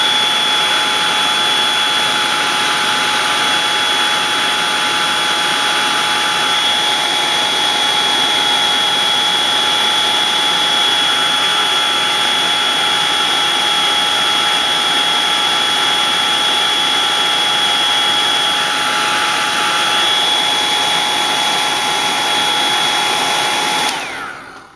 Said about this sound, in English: I'm gonna blow dry it.